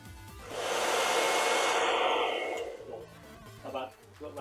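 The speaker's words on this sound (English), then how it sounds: "So let me just get the hairdryer." A hair dryer blasts close by for about two seconds to heat the skates on a Logitech G502 Lightspeed mouse, then winds down while someone talks quietly.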